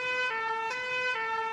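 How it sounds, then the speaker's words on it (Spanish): Cartoon fire engine siren from a children's animated show, a steady loud wailing tone with bright harmonics that shifts pitch slightly a few times over under two seconds, heard alone without talk. "Así se escucha mi camión de bomberos."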